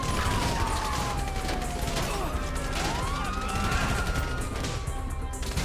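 Dense gunfire crackles nonstop through a police shootout in the video game GTA 5, with rapid overlapping shots, crashes and whooshing effects layered into a loud, continuous din.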